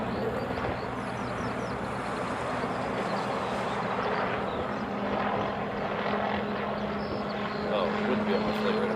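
Lockheed C-5 military transport aircraft at Honolulu airport in Hawaii, a steady broad engine roar heard from a distance, continuous and fairly loud with a low droning hum throughout.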